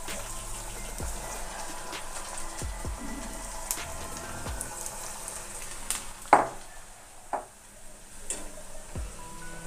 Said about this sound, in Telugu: ఆయిల్ వేడైంది, ఇప్పుడు పకోడీలు వేసుకుందాము. మీల్ మేకర్ పకోడీలు వేసుకుందాం.